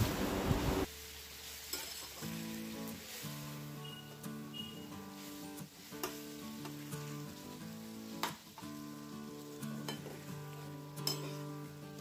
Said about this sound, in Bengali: ভালো করে নাড়ার পরে কিছুক্ষণ রান্না করে নিলাম।